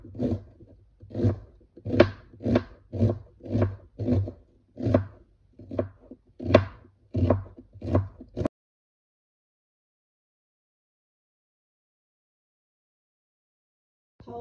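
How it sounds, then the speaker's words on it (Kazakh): Chicken meat is finely chopped on a board, about a dozen rhythmic, evenly spaced knife strikes over eight seconds, close and fairly loud, then silence until a faint sound at the very end. "Тауық етінде майдалап турап шығамыз."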